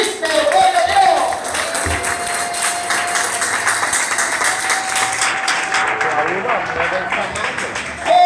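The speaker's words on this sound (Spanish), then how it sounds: "Toma aplauso a Cristo" Congregation applause at a church service, a sustained dense wash of clapping filling the room, with a faint held tone underneath and a swell again at the very end.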